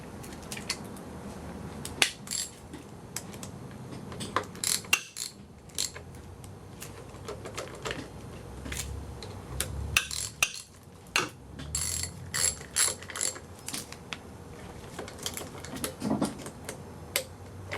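A hand ratchet tightening four timing bolts on an engine during a timing job, with repeated short bursts of clicking at close range and brief pauses between bolts, no talking.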